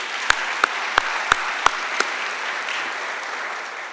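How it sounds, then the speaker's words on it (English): An audience applauds in a soft, steady patter, with several sharp, evenly spaced claps standing out near the microphone during the first two seconds before the clapping continues more diffusely. "Give yourselves a round of applause and recognition."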